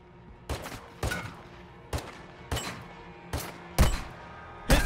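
A bot firing in Warzone Mobile: about eight sharp gunshots spaced roughly half a second to a second apart, crisp and fairly close, with no talking.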